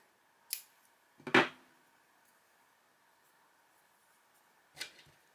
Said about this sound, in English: I need to cut some yarn.